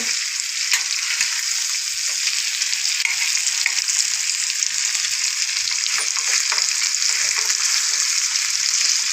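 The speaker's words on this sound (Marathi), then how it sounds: "आता मिडियम गॅसवर आपल्याला उलट पलट करून दोन दोन मिनटात असंच आपण उलट पलट करू आणि शिजवून घेऊ" Black fish fillets frying in oil in a pan over medium heat in Agri style, a constant crackling sizzle with small pops and spatters, close and steady throughout.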